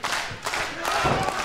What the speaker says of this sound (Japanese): 自然発生的に拍手が巻き起こっている